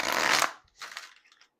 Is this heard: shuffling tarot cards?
yes